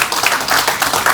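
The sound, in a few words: congregation applauding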